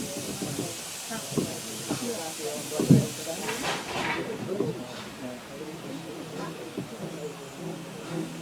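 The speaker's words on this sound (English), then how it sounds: "Something you might be able to hear is Douglas wheel spinning trying to start off." A small narrow-gauge steam locomotive on the Talyllyn Railway hisses and chuffs as its wheels spin while starting off, irregular bursts of steam under a steady hiss, with a person talking over it.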